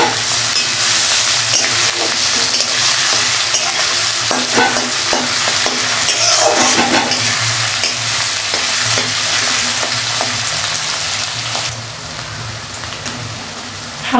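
Crushed garlic fries in hot oil in a pan while being stirred, giving a loud, steady sizzle with scraping stir strokes throughout, then the sizzle drops in intensity near the end.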